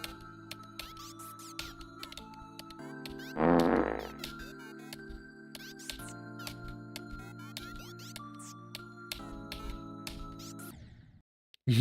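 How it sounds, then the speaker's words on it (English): Fart sound effects during a Geometry Dash stream, one loud blurting burst standing out over steady game music with rhythmic clicks. "You guys hear the trumpets as the fog fades and the fart sounds."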